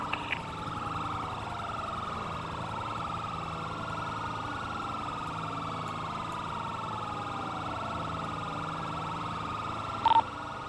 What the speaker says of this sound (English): Why are we on annoying sirens?